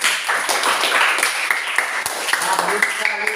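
Classroom applause for a student group, a steady patter of hand claps from a group of students, moderately loud and continuous, with voices talking over it.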